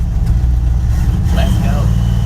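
A 1948-1971 Dodge D100 pickup, all factory, rumbles steadily at low pitch as it heads down a road, a close continuous engine drone with faint rises, and a voice speaks briefly over it.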